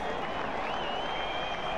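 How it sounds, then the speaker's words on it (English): Video-game baseball crowd of Red Sox fans at a game against the New York Yankees in OOTP18, a dense, steady roar of cheering and clapping with some whistling, loud and unbroken throughout. "cheering, clapping, whistling, enjoying this game immensely as they're beating their hated rivals"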